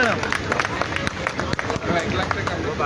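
An audience at a memorial and donation ceremony honoring martyrs claps in sustained applause, with crowd murmur mixed in throughout.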